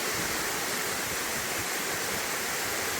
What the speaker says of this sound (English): You see the water there in the center of the screen, rushing?